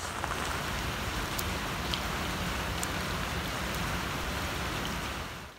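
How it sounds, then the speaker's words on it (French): Steady rain falls in Abidjan during the rainy season, a continuous even hiss of drops on surfaces with a few faint ticks, moderately quiet and unbroken by voices. "Il est 8 heures et il pleut encore à Abidjan."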